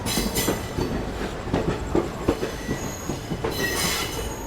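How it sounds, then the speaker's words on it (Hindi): Trains roll one after another past a station platform at night on the Chennai rail line, with steady rumbling wagons, clattering wheels and squealing steel running loud and continuous throughout. "रात का टाइम, एक के पीछे एक ट्रेन जाती है यहाँ से।"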